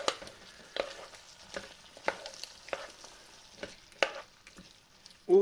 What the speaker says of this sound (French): Hop, on va déjà bien mélanger.